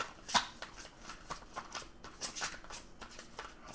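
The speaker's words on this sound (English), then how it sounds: "still having a little bit of trouble with the shuffling here" Tarot cards are shuffled by hand in irregular bursts of riffling and slapping, close up and fairly crisp, with no talking over them.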